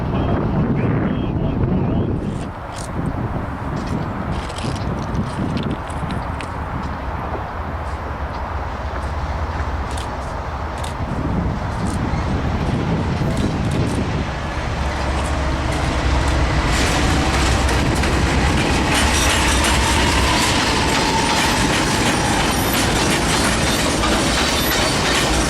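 A CSX Q181 freight train led by BNSF locomotive 944CW 5159 rumbles past an Amtrak station in Birmingham, Alabama, as a steady, loud, continuous roar with wind buffeting the microphone throughout.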